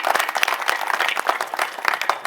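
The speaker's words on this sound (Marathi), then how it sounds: "पुन्हा एकदा त्यांच्यासाठी आपण टाळ्या वाजवूया." At a kirtan gathering, an audience claps for a shehnai player, with uneven, close hand claps from a modest crowd and distinct individual slaps standing out.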